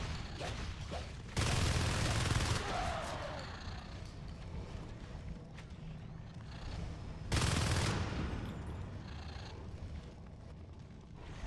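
Gunfire aimed at Hives in Natural Selection 2 comes in two loud, dense broadband bursts, one lasting over a second and a shorter one later, separated by a quieter stretch of mechanical game noise.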